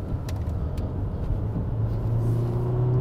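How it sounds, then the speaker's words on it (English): A Porsche Macan T is driven hard around a bend, its engine giving a steady, loud rumble and rising slightly in pitch toward the end, with no talk. "let me just try and chuck this car around a bend with a bit more gusto than I probably should"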